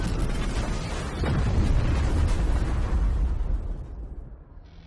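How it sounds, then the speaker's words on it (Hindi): A deep, rumbling blast of a tanker exploding swells and roars for a few seconds, then gradually fades away into quieter noise. "गोल्डन हॉर्न खाड़ी में एक छोटे टैंक का विस्फोट ट्रांस अटलांटिक टैंकर में हुआ है।"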